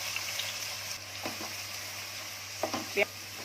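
Chopped onion dropped into about three big spoons of hot oil for a Konkani aloo matar and prawns pulao, giving a soft, steady sizzle with a few brief stirring clinks and crackles, fairly faint throughout.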